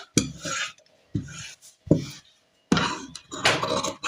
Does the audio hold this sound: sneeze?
no